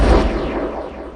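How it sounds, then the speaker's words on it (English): A transition effect sound in a hip-hop beat made in FL Studio, a loud booming burst like an impact that decays into a fading wash over about a second, heard alone. "and finally I added this transition effect sound,"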